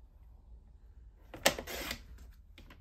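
A paper trimmer slicing card stock, a single quick sharp cut with a brief sliding scrape and soft click in an otherwise quiet room, close and short.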